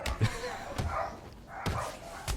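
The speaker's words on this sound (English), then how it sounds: "He shows him his barking dogs." Dogs bark in Batman: Arkham City, several short barks spaced through the clip over a busy game soundscape of background noise.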